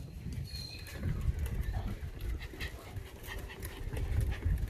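Dogs pant outdoors on a freshly painted deck, rapid rhythmic breathing close by, with faint bird calls and outdoor ambience in the background.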